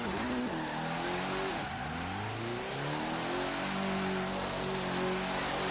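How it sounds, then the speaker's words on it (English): A Mitsubishi Lancer in Forza Horizon 3 strains through an all-wheel drive donut, its mid-pitched engine revving and wavering continuously while the tires squeal and skid, loud and close throughout. "See if this thing will do an all-wheel drive donut here."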